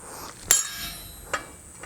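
Two sharp metallic hammer strikes on a punch driven into hot steel at the forge, a loud ringing hit followed by a second, lighter one, then a faint tap.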